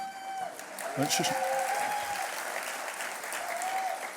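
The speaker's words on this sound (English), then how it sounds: "Sorry, about half of the audience is my family, so just ignore that applause." A gala audience at a humanitarian charity event applauds in a moderate, continuous patter, with a voice and a brief high whistle-like tone over the clapping.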